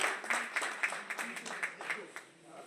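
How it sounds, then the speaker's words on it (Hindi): Scattered hand clapping from a gathered group at a leadership program event, a few sharp individual claps repeating irregularly over a steady murmur, moderately near and fading toward the end. "एक बार जोरदार ताली सारे साथियों के लिए।"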